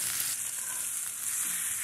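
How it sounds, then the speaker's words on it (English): A steak sears in a hot pan after being turned, giving a steady, loud, close sizzle that holds evenly for about two seconds with no voices. "I think it is time to turn the steak."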